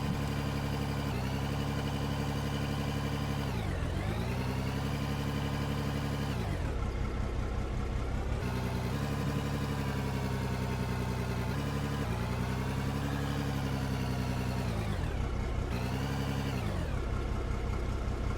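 A heavy rock truck engine runs in the Out Of Ore mining game, a steady loud diesel drone that dips and swells in pitch several times as the truck works through dirt, with no talk over it.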